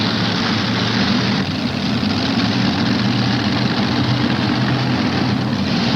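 The Irish Challenger "War Wagon" pulling tractor runs at a tractor pull event, a loud, continuous low engine roar that holds steady without letting up.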